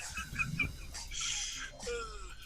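A man imitates a dying rooster's crow with his voice, a strained, wavering cry that slides downward and trails off, following some clucking-like vocal noises amid a casual online game chat.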